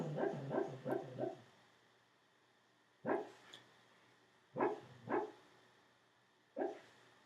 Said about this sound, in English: she's still barking in her sleep